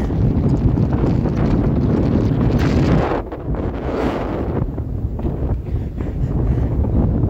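Strong gusts of a winter storm, around 70 km/h, roar and buffet directly against the microphone in a loud, continuous rumbling blast that dips briefly midway before surging back.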